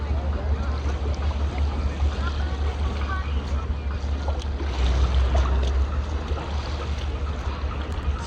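Boats pull away from Starfish Point in the Cayman Islands with a continuous low engine rumble and water wash, while nearby voices murmur over the steady drone.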